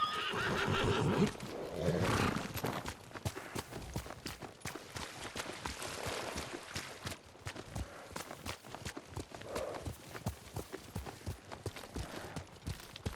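Horses neighing and hooves clopping in a Ghost of Tsushima game scene: loud whinnies open the clip, then a busy stream of hoofbeats and shuffling movement follows, with a few more whinnies further on.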